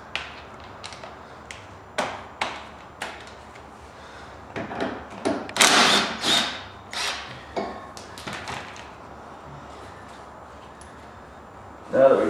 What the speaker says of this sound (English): our next step will be to remove the bolt that's holding the shock into place